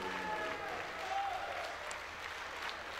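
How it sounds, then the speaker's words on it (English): At a World Games powerlifting competition, a distant arena crowd applauds and cheers steadily for a champion lifter, a faint continuous wash of clapping with a faint voice over it. "The crowd is going crazy over him."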